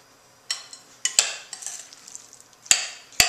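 A spoon works through mango guacamole in a bowl, giving soft wet squelching strokes punctuated by several sharp clicks and taps against the bowl, close and without talk.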